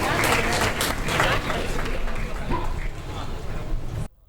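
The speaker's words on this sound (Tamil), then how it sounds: "ஒரு பலத்த கரகோஷம்" Applause from an audience at a live music performance, a steady wash of clapping that starts immediately and holds for about four seconds before cutting off abruptly.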